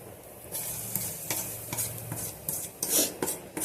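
A spoon stirs and scrapes a spiced potato mixture into smashed potatoes for vada pav filling, giving repeated rough rubbing and scraping strokes with soft squelches, close and fairly steady, with no voices.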